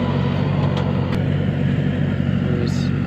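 A farm tractor drives in from a field at night, its engine a steady low drone rumbling close by and fairly loud, with a few faint clicks on top and no clear talk.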